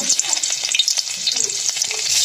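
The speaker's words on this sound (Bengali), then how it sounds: "তেলটা গরম হয়ে গেছে এখন আমরা মাছটা দিয়ে দেব" Fish rubbed with turmeric and salt goes into hot oil in a wok and crackles loudly up close, a bright, busy spatter of pops throughout.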